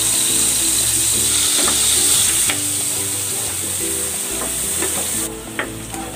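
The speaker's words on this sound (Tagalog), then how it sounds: "Igigisa ko na tong bawang." Garlic sautéing in margarine and cooking oil, a steady loud sizzle and frying hiss close up with occasional stirring clinks and scrapes of a utensil.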